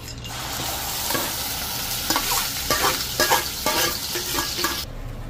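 Ground masala paste sizzles and spatters in hot oil while being stirred for mutton sukka, a steady close frying hiss with scraping stir strokes and bursts of crackle in the second half, then a sudden stop.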